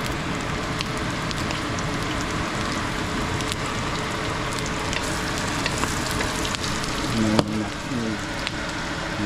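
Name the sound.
garlic frying in a pan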